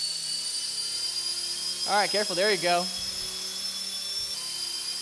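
A high, steady whirring hum of small spinning rotors continues throughout, while a person speaks briefly over it.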